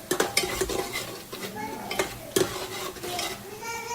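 Coriander and garlic-ginger paste being sautéed in hot oil, with a utensil stirring and scraping against the pan in sharp, uneven clinks over a low sizzle.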